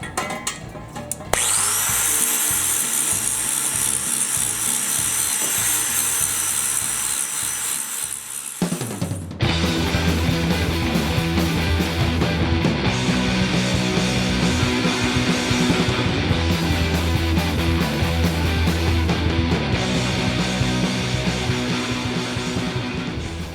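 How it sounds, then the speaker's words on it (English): A power grinder works metal on a Jacobsen three-wheel utility vehicle under restoration. A loud, sustained high whine runs for several seconds, then gives way to a rougher, continuous grinding roar. No one talks. "So I'm gonna grind that, get that cleaned up."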